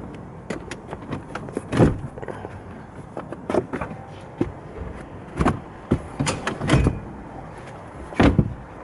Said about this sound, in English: I'll just open the boot of the vehicle.